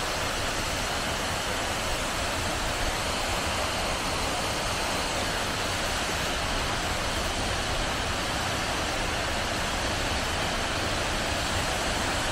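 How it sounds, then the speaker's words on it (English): Steady broadband roar of Inchree Falls, a double waterfall in the Scottish Highlands, filling the scene continuously and evenly at close range with no voices. "Double waterfall, because there's two."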